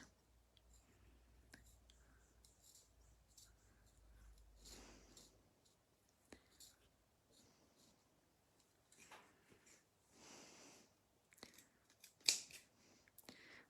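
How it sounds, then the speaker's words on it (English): Quiet snipping and crisp cuts from slightly dull scissors cutting fabric, scattered and irregular, with soft rustling of cloth and one sharper cut near the end. "I think these scissors could do with a bit of a resharpen"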